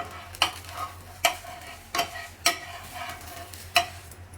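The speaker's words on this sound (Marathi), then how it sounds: "ह्या कडा सोडवत सोडवत हा डोसा आहे तो पलटी करून घ्यायचा आहे" A cucumber dosa cooks on a pan, the utensil loosening its edges and flipping it: soft sizzle underneath with five or six sharp scraping taps, close and clear, no talk.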